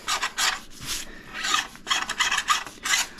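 A hand file scrubs a rusty, gritty ski edge in quick, short back-and-forth rasping strokes, close and steady, several per second with small gaps between them.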